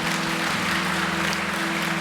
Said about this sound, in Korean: 우리 김현욱 교수님과 또 하나님께 영광의 박수 한번 올려드리겠습니다